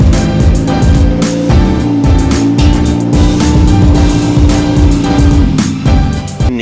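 A car engine runs loud and steady, its exhaust hanging loose and unbolted after the hanger snapped, with a continuous rumbling drone and no voices.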